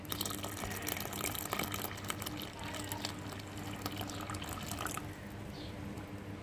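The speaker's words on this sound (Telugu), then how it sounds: "మొత్తం పాలు పోసుకొని" Milk poured from a container into a glass while making ragi porridge drink, giving a steady, continuous liquid pouring and filling sound for several seconds, close and moderately loud.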